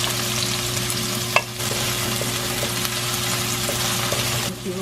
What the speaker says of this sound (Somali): marka hadda saliidii way kululaato basashiyaan ku shubanayaa